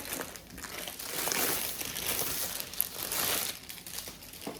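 Clear plastic-like transparent wrapping paper is handled and crinkled during an unboxing, a steady close crackling rustle with a couple of sharper crunches, no talking over it.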